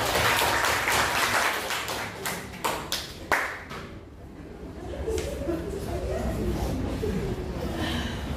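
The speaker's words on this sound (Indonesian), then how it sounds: "Ya, bagus sekali, beri tepuk tangan." Students in a classroom clap after a group presentation, a burst of scattered claps that fades after a few seconds, giving way to murmuring and voices.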